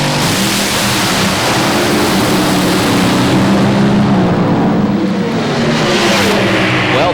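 An alcohol-fuelled dragster engine revs hard at the start line of a drag race, a loud, continuous roaring drone with rising RPM that fills the whole stretch, close and overwhelming.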